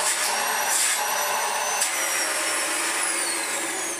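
A Dyson DC18 Slim vacuum cleaner runs steadily and close, a loud continuous whooshing roar with a high whine on top and slight shifts in pitch as airflow changes, with no talking.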